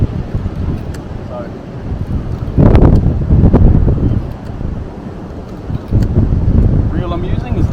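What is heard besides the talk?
strong wind on a beach, about 20 knots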